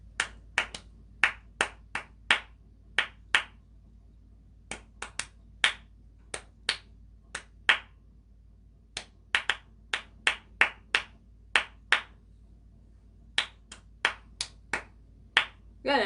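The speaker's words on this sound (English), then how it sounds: "So clapping out the rhythm." Sharp hand claps tapping out an uneven rhythm, bursts of two and three claps separated by short pauses, close and crisp against a quiet room with no talking.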